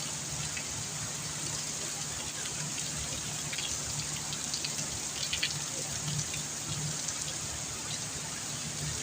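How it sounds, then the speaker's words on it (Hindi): Monsoon rain falls steadily outside near a balcony, producing an even, unbroken hiss with soft patters of drops and no pauses. "मस्त वाला एकदम पानी गिर रहा है"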